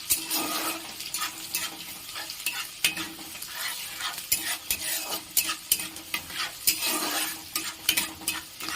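Chopped onions frying in a pan for a dhaba-style egg tarka, with a constant sizzle and repeated scraping spatula strokes at close range, no talk.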